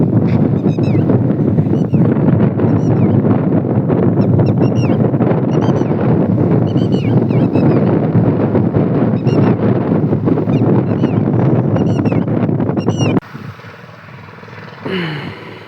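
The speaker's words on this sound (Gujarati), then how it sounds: "અને પવન જો વધી ગયો છે" Strong wind roars steadily with rain starting, a loud continuous rush that drops off abruptly near the end, leaving quieter patter and faint background sound.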